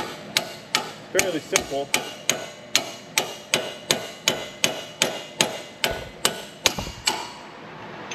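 Metal hammer blows driving two chisels into a Ford wheel bearing to wedge it apart, about fifteen sharp ringing strikes in a steady rhythm, close and loud, with a brief spoken remark among them.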